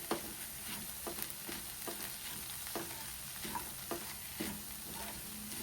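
A pan of colocasia leaf and lentil curry being stirred, with a steady soft sizzle and repeated scraping strokes of a spoon against the pan, heard alone.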